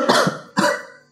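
Two harsh, close coughs about half a second apart from a working man, each a sharp burst trailing off, with no talk.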